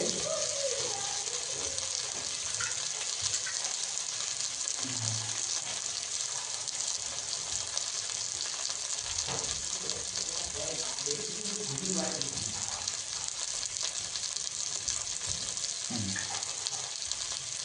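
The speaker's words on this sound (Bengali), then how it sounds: "হাতটা ভালোভাবে ধুয়ে নিই।" Hands being washed under a running kitchen tap, a steady continuous gush of water splashing into a sink, close and fairly loud for the whole stretch.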